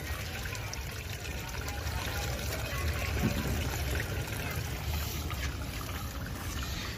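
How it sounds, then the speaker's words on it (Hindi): Water drains steadily out of a machine in a flooded area, a continuous trickling, splashing flow with broadband rush, heard close with faint voices in the background. "चले पानी निकाल देते हैं, अब जो पहले खुद निकल रहा था अब निकाल देते हैं"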